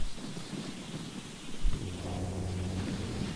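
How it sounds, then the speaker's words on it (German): Thunder from lightning strikes at a tomb in the Zelda: Ocarina of Time video game: a steady rain-like hiss, then a sudden deep crack and rolling rumble midway, with low sustained tones continuing afterward. "Ein Blitz oder mehrere Blitze schlagen ein."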